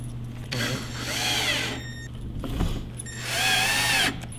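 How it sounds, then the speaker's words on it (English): A power drill with a drywall Phillips bit that has a depth stop drives screws into the armrest of a Wyrmwood Prophecy table. Two separate whirring bursts rise and fall in pitch, with a short pause between them. "we're going to include a drywall Phillips bit, so there is some depth stop, so you shouldn't be able to just screw these all the way through the armrest"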